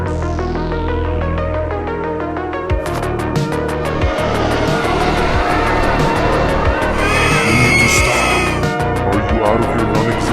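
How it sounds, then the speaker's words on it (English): A car crash scene in the video game Garten of Banban 7, loud revving engine with rising pitch and tire screeches under a dense, busy game soundtrack with rhythmic pulses, building to a harsher burst near the end. "Stay back, we're gonna crash."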